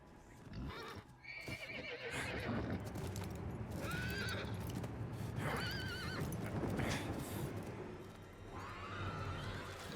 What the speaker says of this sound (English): Nay. Horse sounds.